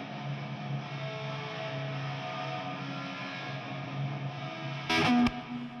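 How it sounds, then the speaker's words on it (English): A soloed stereo chamber reverb return recreating the ambience of the original recording plays as a steady sustained wash with tonal tails, then a short louder noisy burst near the end. "Let me just solo the reverb for you."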